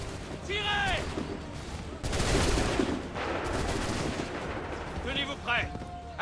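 Musket gunfire in the video game Assassin's Creed 3: a burst of shots and booms in the middle, with battle noise around it and French-speaking voices shouting before and after.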